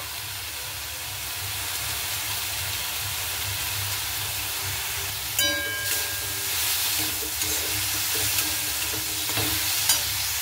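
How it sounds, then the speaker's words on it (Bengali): Chilli powder being stirred into drumstick leaves frying in a pan, a steady close sizzle with soft scraping and clinks of the spoon joining in partway, no voices. "লঙ্কার গুঁড়াটা দিয়ে খুব ভালো মতো করে আমি নাড়াচাড়া করে নেব"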